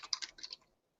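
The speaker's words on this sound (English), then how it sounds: "Sporty, with your loud typing, what's going on?" Quick, faint clatter of fingers typing on a computer keyboard, a short run of several keystrokes that stops abruptly.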